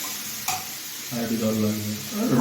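Chicken masala is stirred and fried in a pan with a little water, giving a soft sizzle with a sharp clink early on, then a busier bubbling and scraping stretch.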